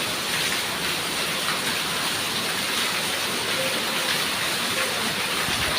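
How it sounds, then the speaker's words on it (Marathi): Heavy monsoon rain falls steadily outside, a dense, even hiss and wash that holds at the same strong level from start to finish with no voices over it. "बाहेर पाऊस खूप चालू आहे"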